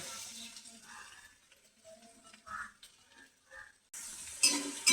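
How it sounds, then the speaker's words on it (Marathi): Chopped onion drops into hot oil for a dried-shrimp chutney, giving a steady frying sizzle with a sharper, louder burst near the end and faint background noise. "तेल तापलेलं आहे. आपण त्याच्यामध्ये सर्वात पहिलं कांदा टाकून घ्यायचा."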